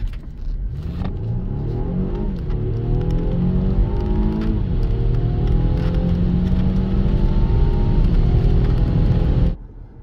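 A Volvo V90 T8 hybrid estate accelerates hard, its engine note climbing steadily through rising harmonics for about nine seconds at a loud, close, constant level, then cutting off abruptly near the end.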